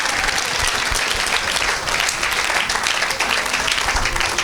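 A church congregation applauds and cheers for Jesus, producing dense, sustained clapping that fills the room evenly from start to finish with crowd noise mixed in.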